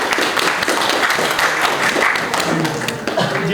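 Applause from a seminar audience in a hall, a dense, continuous patter of many hands clapping at full volume from start to end.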